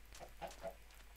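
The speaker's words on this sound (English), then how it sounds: "Oh, yeah, there's chickens over here." Chickens in Minecraft give three short, soft clucks in quick succession, faint and slightly distant against near silence.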